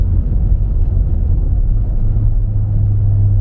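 Turbocharged BMW accelerating onto a highway, a loud, close, steady low engine rumble with a deepening drone toward the end, heard from inside without talking.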